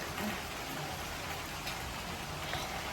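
Steady rain pattering on a surface, a dense, continuous hiss with small drops tapping throughout and no voices.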